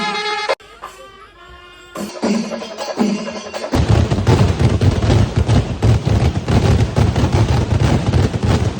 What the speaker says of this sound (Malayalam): വെടിക്കിട്ട് എങ്ങനെയുണ്ടെന്ന് കമൻറ്റ് ചെയ്യ്